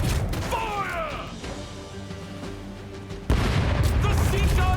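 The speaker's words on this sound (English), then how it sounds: "All cannon! Fire!" Ship cannons in the pirate video game Rogue Waters fire in a rapid burst of heavy booms, followed by a louder blast amid game noise and a faint voice.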